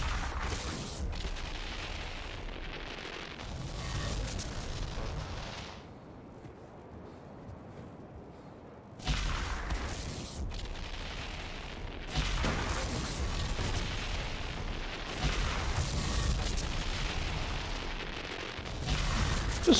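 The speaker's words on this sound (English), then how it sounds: "Just make explosions everywhere." Repeated booming blasts and crackling bursts in Wolfenstein: The New Colossus, in quick succession, loud and dense, with a brief lull midway before the explosions resume.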